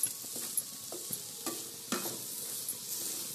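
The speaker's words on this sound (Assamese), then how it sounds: "ইয়াতে নাৰিকলখিনি দি দিছোঁ, ভজা নাৰিকল এয়া মিক্স কৰি লৈছোঁ।" A spatula scrapes and stirs roasted coconut mixed with condensed milk and sugar in a pan, repeated close scraping strokes over a steady soft sizzle.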